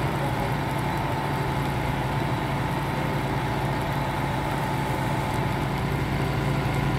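A tractor engine in Landwirtschafts-Simulator 19 drones steadily at idle, a low, even rumble that holds without change throughout.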